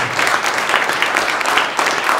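A gathered crowd at an exhibition opening claps steadily in a continuous wash of applause, fairly loud and even, with no voice on top.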